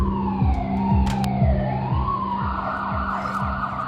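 An ambulance siren wails in a rising and falling sweep, with a repeating low horn-like pulse beneath it, loud and close throughout.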